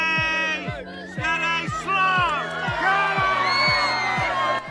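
A crowd at the World Snail Championship final in an outdoor village setting cheers and whoops with excited shouting and babble. Children's voices are in the mix, and the noise holds loud and sustained throughout, mixed under a steady rhythmic backing beat.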